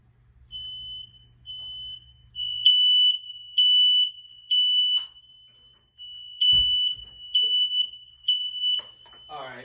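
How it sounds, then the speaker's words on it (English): A smoke-style fire alarm shrieks a steady high tone, then repeats in loud chirping bursts, with brief noises and a bass guitar hum underneath early on. "All right, fire alarm."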